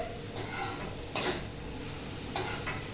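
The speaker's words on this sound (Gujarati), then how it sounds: "પૌવાને ગરમ કરવા કે જરા ગેસ પાસ કર્યો છે." Flattened rice (poha) being warmed in a pan over a gas flame, with a soft steady sizzle and a few sharp scraping stirs of a spoon against the pan, fairly quiet and close.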